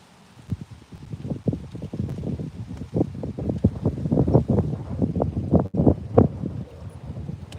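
Gusty wind blows over a bass fishing boat on open Florida water. Up close, a steady rushing roar carries repeated irregular low knocks and thumps, with no talk.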